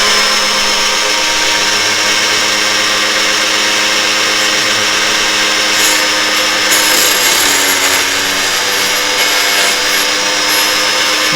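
An electric chainsaw sharpener from Tractor Supply grinds a clamped saw chain, a loud, constant abrasive whine that holds steady throughout with slight shifts in pitch as the wheel bites.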